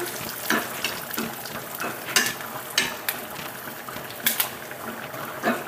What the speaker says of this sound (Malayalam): അപ്പം നമ്മൾ ഇതിലേക്ക് കുറച്ച് കറിവേപ്പിലയും കൂടി ഇട്ട് കൊടുത്ത്